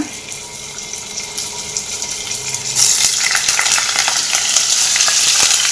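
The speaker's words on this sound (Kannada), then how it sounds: "ನಾವು ಸ್ವಲ್ಪ ಪನ್ನೀರ್ ಫ್ರೈ ಆಗಬೇಕು" Paneer pieces dropped into hot oil, frying with a steady hiss that jumps sharply louder halfway through, with a watery crackle and stirring scrape under it.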